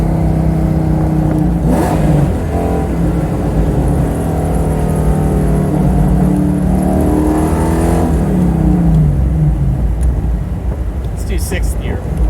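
A car with an Aluminator engine revs hard as it downshifts, the engine note climbing and falling in several loud, close surges that fill the stretch, with a voice talking over part of it.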